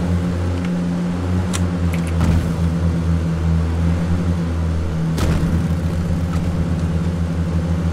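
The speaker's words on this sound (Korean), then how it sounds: "차 소리 확인" Steady mid-pitched car engine rumble from a vehicle driving in the battle-royale game PUBG, a continuous drone holding at moderate loudness throughout with a couple of brief louder swells, no talking.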